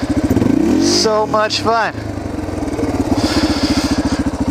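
A Yamaha TTR230 trail bike engine revs and rumbles loudly and close in an off-road riding area, its pulsing exhaust note rising and falling steadily while a rider speaks briefly over it.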